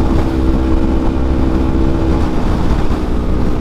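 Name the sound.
strong wind noise while riding a motorcycle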